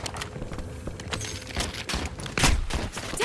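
Scattered gunshots and bursts of automatic fire pop irregularly in the Call of Duty Warzone battle royale, some distant and some closer, mixed with game effects and clatter.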